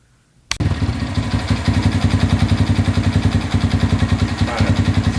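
A custom-built Honda Grom motorcycle engine catches with a sharp start, then settles into a steady, close, rhythmic idle that runs to the end.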